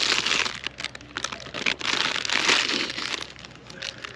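Close, steady crinkling of a plastic bag being handled, with irregular rustles and crackles and no voices.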